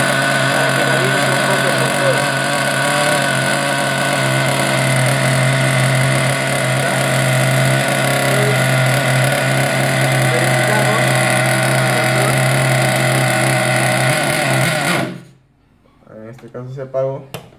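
JQ Products nitro RC buggy engine idling steadily while warming up with a glow plug heater attached, a loud continuous buzzing drone that cuts out abruptly near the end, followed by brief talking.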